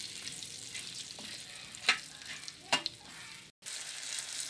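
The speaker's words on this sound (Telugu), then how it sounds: "వీటిని మనం కలుపుకుంటూ వేయించుకోవాలి" Stuffed gherkins fry in hot oil in a pan, giving a steady close sizzle that is broken by two or three sharp spoon scrapes as they are stirred.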